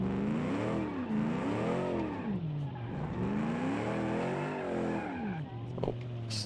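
A supercharged American V8 car with a solid rear axle is driven hard in a racing video game, its engine loudly revving up and down in sweeping waves with brief tire squeal and skidding near the end.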